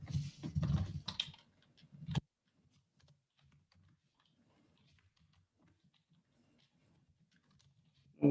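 A computer keyboard clatters with fast close typing for about two seconds, then only faint scattered clicks remain in a quiet room.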